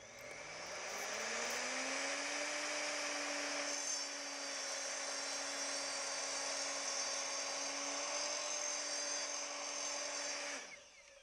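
Power saw cutting through a piece of wood, a steady high whine with the motor pitch rising as it spins up, then holding loud and continuous for several seconds before cutting off.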